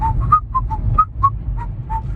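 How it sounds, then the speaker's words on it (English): A person whistles a short, light tune of quick, separate notes over a low background hum. "I'm whistling."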